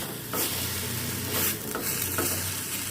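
Chopped onions are sautéed in a pan for a tandoori pizza topping, with a continuous close sizzle and a few louder bursts as they are stirred, and no talk.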